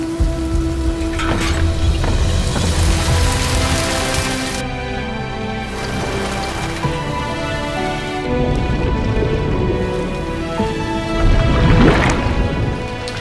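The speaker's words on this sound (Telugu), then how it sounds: "నగరంలో 2 రోజుల నుండి భారీ వర్షాలు కురుస్తున్నాయి" Heavy rain falls steadily throughout in a city, with a dense wash of patter and occasional louder splashes, continuous and fairly loud with no voices.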